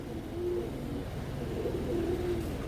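A large female giribaz pigeon coos in soft, low repeated calls over a steady background hum, close by and with no talking.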